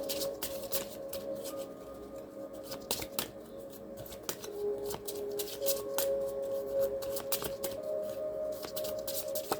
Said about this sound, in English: It's kind of hard to shuffle when it's so little.